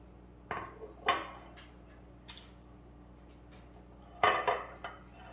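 A tablespoon being pulled from a set of kitchen utensils in a home kitchen while baking, a few sharp metallic clinks and rattles, the loudest near the end, close and separated by quiet pauses.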